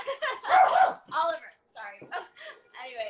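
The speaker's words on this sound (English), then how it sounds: "oh, that's my dog." A pet dog barks and yips loudly at home, a few short excited barks near the start, followed by a person speaking over fainter sounds.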